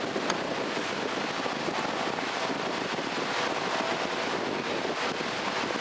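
Running water pours steadily while a softshell turtle is cleaned outdoors, a constant broadband rush with no breaks and no talk.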